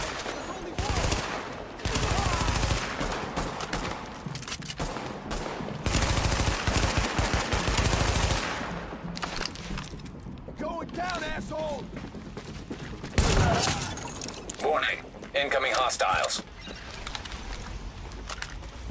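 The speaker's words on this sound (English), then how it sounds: "Stop shooting them!" Gunfire in the video game The Division: long bursts of rapid automatic fire and scattered single shots, loud and dense at times, with quieter gaps and brief spoken voices mixed in.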